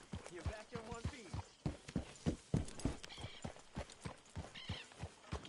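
Horse hooves clip-clopping in the Red Dead Redemption video game, quick irregular thuds close by, mixed with a whinny and brief voices talking over the steps.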